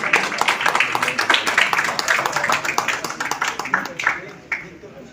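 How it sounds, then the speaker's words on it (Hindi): An award ceremony audience in a hotel claps for a child's parents as they come on stage, dense continuous hand-clapping from many people that carries on for several seconds before thinning out. "एक बार बहुत जोरदार तालियां हो जाए।"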